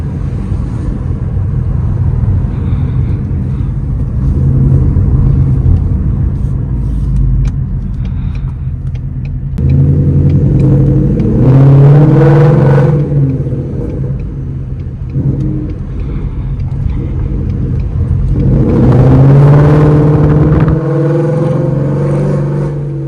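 A straight-piped Ford Mustang engine revs hard twice, each rev rising and falling over a steady loud rumble, close by with no talking.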